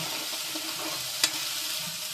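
Chopped onion sizzles steadily in a hot pan while being browned until red. It gives a continuous, even hiss, broken once by a brief metallic tap partway through.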